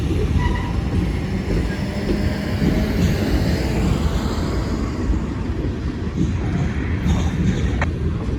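A long freight train rolls past close by in a steady, continuous roar and rumble, with faint clanks along the cars.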